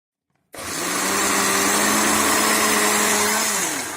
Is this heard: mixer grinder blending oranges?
yes